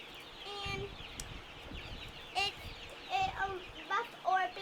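Chickens of several breeds, including Rhode Island Reds, Buff Orpingtons and Black Australorps, cluck on a farm in short repeated bursts over steady background noise, with children's voices faintly mixed in.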